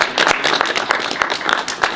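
A group audience gives a brisk round of applause after an evening session of speakers, with continuous overlapping claps, fairly loud and close, and no talking.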